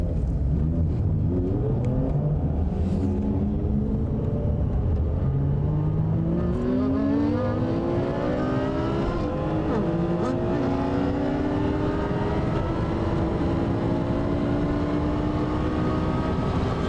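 Cartoon race cars, a Porsche Carrera GT among them, roar through a race with loud sustained engine whine, repeated upward revving sweeps as gears climb, and a dense rumbling bed filling the entire stretch without speech.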